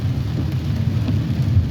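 Heavy monsoon rain pours steadily in a dense, close hiss near Daman on a very cloudy day, with a low rumble underneath and no voices.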